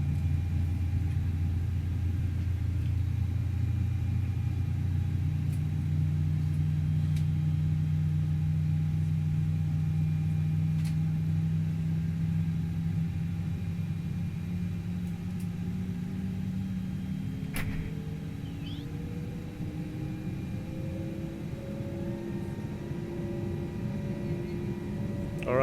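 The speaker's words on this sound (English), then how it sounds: "Try not to talk over the engine start." A simulated Airbus A320neo engine spools up in the FlightFactor flight simulator: a steady low rumble and hum that rises in pitch over about twenty-five seconds, with climbing tones emerging near the end, moderately loud and without talk.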